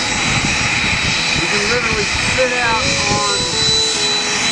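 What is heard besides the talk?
Learjet jet aircraft engine preparing for takeoff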